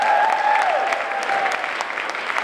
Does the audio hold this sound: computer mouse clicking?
no